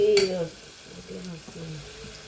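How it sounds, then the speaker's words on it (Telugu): Onions frying in a pan, a steady close sizzle with light stirring, a brief louder burst of crackle near the start that settles into a softer continuous hiss. "ఉల్లిపాయలు వేగాయండి."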